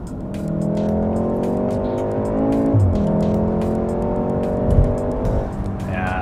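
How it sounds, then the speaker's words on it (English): A 2016 VW Golf R with a dual-clutch gearbox accelerating hard, its engine rising through the revs and then a quick downshift with a sharp throttle blip, loud and heard from inside the car. "who doesn't love a flawless downshift with a nice blip of the throttle?"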